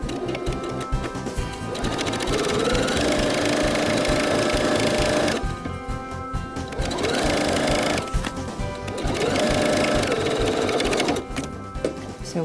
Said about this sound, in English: Now we're going to sew the other side down and make our X at the bottom to reinforce it.